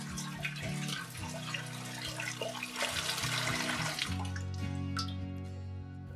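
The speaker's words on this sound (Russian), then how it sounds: "Для этого заливаем 2 литра воды в бак." Water pours steadily into an autoclave's metal tank, a continuous splashing rush with a rising resonant tone as the vessel fills, close by and without voices.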